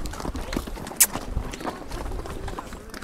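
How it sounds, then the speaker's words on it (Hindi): A horse walks through slippery mud in Baisaran Valley near Pahalgam, Kashmir, its hooves giving soft, irregular thuds and squelches up close, with one sharp knock and faint voices in the background. "तो हमारा घोड़ा आ गया है और बहुत ही ज़्यादा स्लिपी है, कीचड़ है पूरा"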